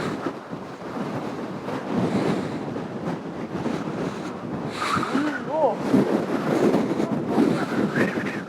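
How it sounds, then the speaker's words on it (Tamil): Strong wind blows at a hilltop viewpoint in the Kolli Hills, a continuous loud rumbling roar buffeting the microphone, while people talk over it. "எப்படி காத்து அடிக்குது."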